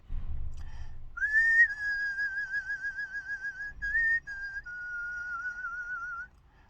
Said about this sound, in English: So to achieve vibrato using the pucker whistle,